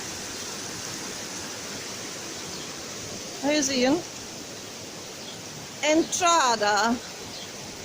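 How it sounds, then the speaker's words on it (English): Algar waterfalls on the Costa Blanca, a steady broadband rush of falling water close by that runs unbroken throughout, with two short stretches of people speaking over it. "There's a waterfall just here."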